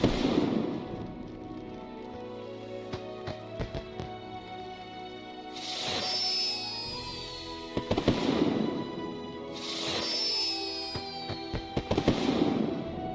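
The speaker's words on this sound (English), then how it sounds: "The fireworks are so freaking dope." Fireworks at the Mid-Summer Festival in the online game Lord of the Rings Online: repeated whistling rises burst into crackling showers every few seconds over steady festive background music.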